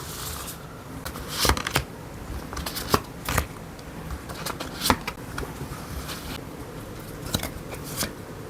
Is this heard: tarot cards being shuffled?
yes